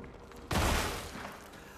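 Video game gunfire as a full magazine is emptied: a sudden dense burst of rapid shots that holds loud for about half a second, then tails off into ringing noise.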